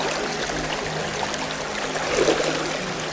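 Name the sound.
water tipped out of a gold pan in a river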